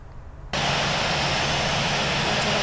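Jet engines of an Airbus A340-600 in a flight simulator game, a soft hum that suddenly jumps to a loud, steady roar and holds constant to the end.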